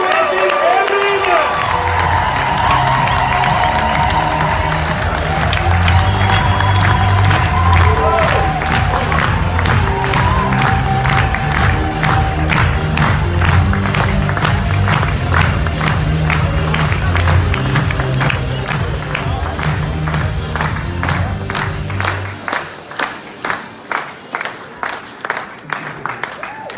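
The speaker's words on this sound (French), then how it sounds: "on demande avec un tonnerre d'applaudissements l'inauguration" Thunderous applause and cheering from a large audience at a recognition ceremony, with dense steady clapping and crowd shouts over music for about twenty seconds before the clapping thins into scattered claps.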